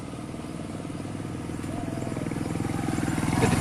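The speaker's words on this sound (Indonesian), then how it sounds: "jarang sekali terdengar deru motor kayak gini" A motorcycle engine runs steadily with a rapid, throbbing putter that grows slightly louder toward the end, in a remote forest village, with no talking.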